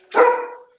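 A rescue dog barks once indoors, a single loud, close, slightly hoarse woof that tails off quickly into silence.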